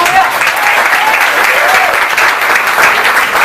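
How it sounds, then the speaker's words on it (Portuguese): A church congregation claps loudly and steadily, dense continuous applause with faint voices and cheers mixed in throughout. "Você pode aplaudir a Ele?"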